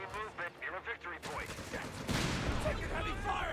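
Bursts of rifle and machine-gun fire from a Company of Heroes 3 battle, including a half-track firing on infantry, rattling under excited commentary and growing denser and louder toward the end.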